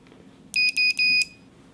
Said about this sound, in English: I can even plug in a buzzer